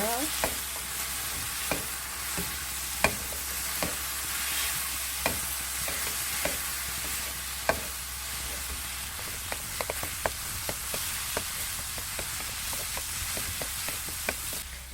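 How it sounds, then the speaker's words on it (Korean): Japchae stir-fried with soy sauce and honey in a hot oiled pan gives a steady sizzle, with repeated sharp clicks and scrapes of the utensil against the pan throughout, close and fairly loud, without voices. "이제 마저 볶아주세요"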